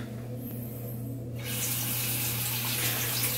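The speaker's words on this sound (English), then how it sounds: "We're going to rinse out" Tap water suddenly starts running into a sink as the face is rinsed after a wet shave, a close, steady splashing rush that continues to the end.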